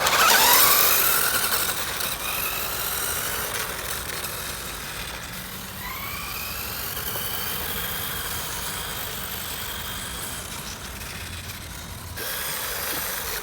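A restored 1986 Ishipla Monster RC buggy's small engine runs steadily with a continuous buzzing drone, moderately loud and fairly even throughout, with a brief rising whine partway through.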